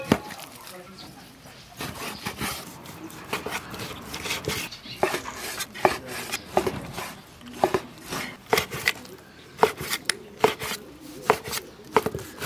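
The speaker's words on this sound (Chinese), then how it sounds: "先把牛肉切成块儿" Chunks of beef chopped with a knife on a board, giving crisp, close thuds that speed up into a steady, uneven rhythm of chops over faint room noise.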